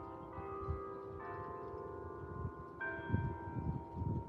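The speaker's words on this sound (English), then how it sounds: "That's the 3 o'clock bell." A church bell by a historical cemetery rings the three o'clock hour, with a few resonant strikes that hum on and blend into one another, heard from a distance over low outdoor rumble.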